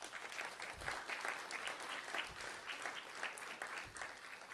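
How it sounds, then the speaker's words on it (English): Crowd at a ribbon cutting ceremony for a new school campus claps steadily in dense, faint applause that continues evenly throughout with no clear beginning or end. "Let's give us a round of applause for that."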